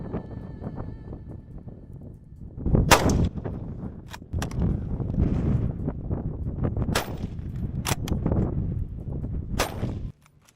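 Hunters' rifle shots in Indonesian bush, several sharp loud cracks spaced across the stretch, each followed by a rumbling roll over wind and outdoor background noise.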